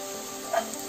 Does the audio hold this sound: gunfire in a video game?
no